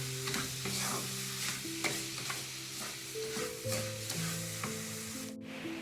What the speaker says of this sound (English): condensed milk, sweet condensed milk. 1, 2, and stir it well.